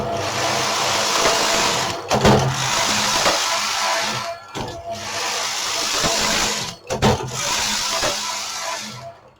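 A Brother electronic knitting machine works rows of a jacquard adult-size hat: the carriage makes close, steady rasping sweeps across the needle bed, separated by short pauses as it changes direction.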